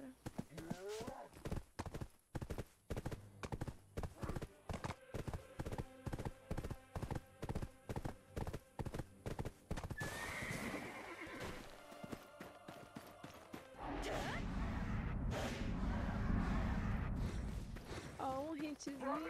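Horse hooves clip-clop in a steady rhythmic gait in the online game Black Desert, then give way to louder combat-like noise, with players talking over the sounds.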